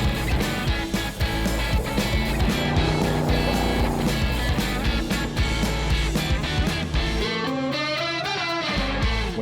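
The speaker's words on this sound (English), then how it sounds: "When you get in one of these Baja trucks and you don't know what it can do, it's pretty interesting heading into a corner at 70 miles an hour" A Baja truck is driven hard around a rutted off-road track at about 70 mph: a loud, continuous engine roar with rattling and bumping over rough ground, near and steady throughout, with no speech.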